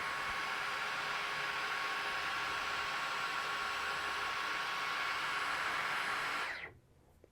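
Dyson Gen5 cordless vacuum cleaner running on medium power, a steady, close, even airy whine that holds for several seconds, then cuts off abruptly near the end.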